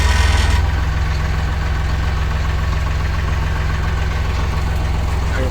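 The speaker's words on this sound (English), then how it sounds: "smashing this thing with a tractor" A farm tractor engine idles close by with a loud, steady low chug and a constant rhythmic pulse, holding even for several seconds with no talk.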